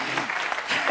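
Studio audience applause on a French TV entertainment show, a steady wash of clapping for the full second with some voices mixed in.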